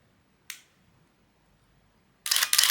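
A Nikon F4 film camera shutter fires in continuous low mode: one sharp click, a pause of nearly two seconds, then a quick loud burst of a few rapid clicks, close up and with no one talking.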